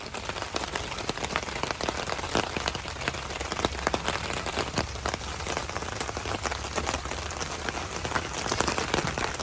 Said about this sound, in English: The rain has started.